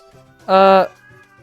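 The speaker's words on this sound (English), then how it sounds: "I've got a cat meowing at me that wants food now" A hungry cat lets out a single clear, tonal meow lasting about half a second, close by and loud against a quiet room.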